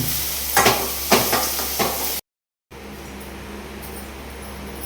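Water bubbles and hisses in a pot with a few clinking stirs at first, then a brief dropout before the steady bubbling resumes.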